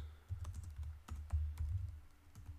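A computer keyboard is typed on in quick irregular clusters of clicky keystrokes, close and moderately loud over a low background hum, with no talk.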